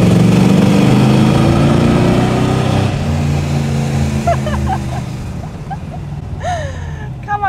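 A Corvette C3 V8 engine from the 1980s roars and revs in a tunnel with a deep echoing rumble, then eases off and fades over the following seconds.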